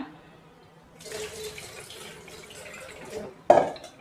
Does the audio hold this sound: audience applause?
no